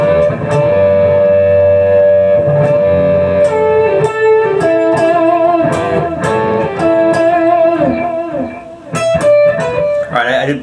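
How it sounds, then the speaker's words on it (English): Electric guitar playing the solo from a song, a continuous run of bright, sustained melodic notes with a slightly driven tone, loud and close throughout with no talking. "let me play it from the beginning"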